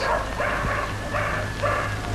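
A dog in a 1974 Georgian feature film gives a few short, soft barks or yelps spaced about half a second apart, fairly faint over a steady low background hum.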